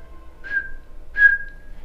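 A person whistles two short, sharp, high notes with a pause between, imitating the eerie whistle of a pocong ghost, close and clear over quiet background.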